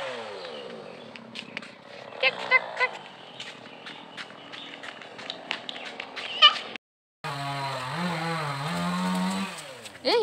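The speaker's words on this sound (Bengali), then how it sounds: "আর এখানে এই যে গাছ কাটতে এসছে, প্রচণ্ড আওয়াজ হচ্ছে, কিচ্ছু শোনা যাচ্ছে না" A chainsaw cuts a tree close by, its loud revving engine drone rising and falling for a few seconds near the end, after a stretch of repeated cat meows and quieter background noise.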